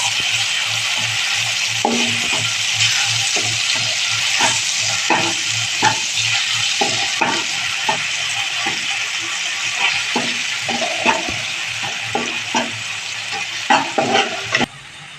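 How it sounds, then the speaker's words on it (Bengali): Ground cumin and coriander paste fries in a pan for a katla fish kalia, giving a continuous sizzle broken by repeated scraping and light clinks as a spoon stirs it. "মশলাটা একটু ভেজে নেব।"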